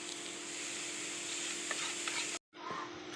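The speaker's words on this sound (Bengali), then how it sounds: "নেড়ে ভালো করে মিশিয়ে নেব।" A carrot and date jaggery filling is stirred in a pan with a steady soft scraping and sizzling hiss that cuts out briefly, then resumes.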